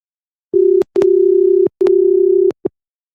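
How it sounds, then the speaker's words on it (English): A telephone on a call-in line gives a steady electronic ring tone in three long bursts with short gaps and a brief final blip, loud and close with no talk. "Can you guys hear the phone ringing?"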